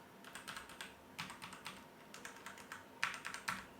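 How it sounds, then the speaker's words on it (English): Quiet, rapid clicking of keys on a computer keyboard, in short bursts with brief pauses, alone without any voices, picked up by an Elgato Wave 3 USB microphone. "let's go ahead and hit some buttons on the keyboard"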